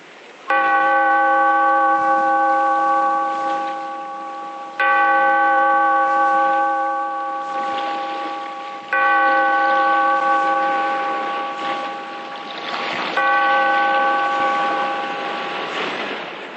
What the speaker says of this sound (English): Bellkeeper, toll the bell, so that all may know we are gathered again in the